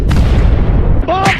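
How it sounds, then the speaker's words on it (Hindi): A cartoon firecracker goes off inside an iron pipe with a heavy booming blast, followed by a brief rising squeal-like tone as the clip ends. "तभी खरगोश इधर से एक चिंगारी पाइप में डाल देता है, तो उससे पटाखा में आग लग जाता है।"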